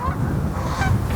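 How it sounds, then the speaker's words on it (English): Geese honk repeatedly on an outdoor disc golf course, loud and close, with a dense, continuous run of calls and no talking over them. "Oh my gosh, geese are attacking."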